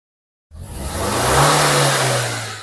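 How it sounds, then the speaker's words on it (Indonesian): A car engine starts from silence and runs with a steady, even hum that swells slightly and stays smooth, close by with no voices. "suara mesin sangat halus"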